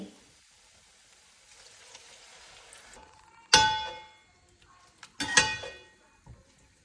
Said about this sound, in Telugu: 1 గ్లాస్ వాటర్ వేసుకున్నాలి.